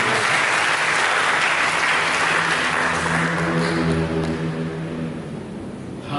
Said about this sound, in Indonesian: Camkan ini, berikan tepuk tangan.